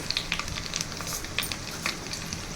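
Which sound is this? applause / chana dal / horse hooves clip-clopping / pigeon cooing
chana dal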